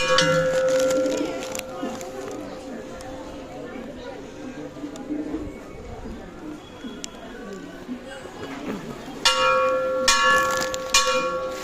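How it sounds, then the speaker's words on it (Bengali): A child rings a temple bell at Shantiniketan with bright metallic clangs, rung in bursts at the start and again near the end, while people talk throughout. "এই যে ঘন্টাটা বাজা"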